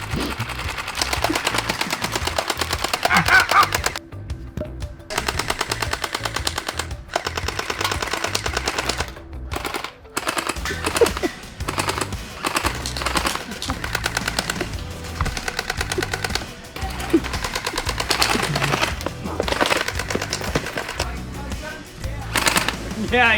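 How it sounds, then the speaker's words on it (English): Rapid bursts of gunfire aimed at a wall fill the scene with sharp, loud cracks and automatic rattles, continuous over a dense background, with brief pauses and voices shouting amid the shooting. "I'm just trying to shoot the wall."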